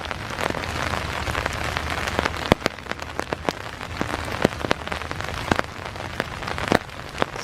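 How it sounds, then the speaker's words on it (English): Heavy rain pours down steadily in a dark, foggy park at Iroquois Park on a winter morning, with dense close patter and sharp drips striking an umbrella overhead, no voices. "it's pouring down rain and it's dark"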